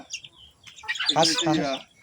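Chickens at a garden farmhouse give scattered clucks, then a denser run of calls, mixed with nearby people talking.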